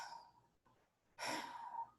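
A voice imitates the ragged breathing of a monster hiding under a bed, a faint drawn-out breath and then a louder, rough, hoarse exhale close up, with no words spoken.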